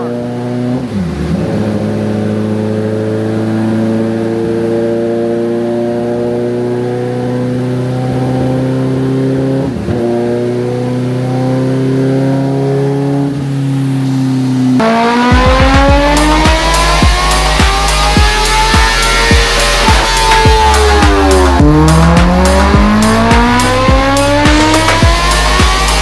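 A 2025 Kawasaki ZX-10RR motorcycle is run on a dyno, its engine revving in repeated rising sweeps that hesitate and drop back, then climbing into a louder, harsher high-rpm wail, very close and without talk.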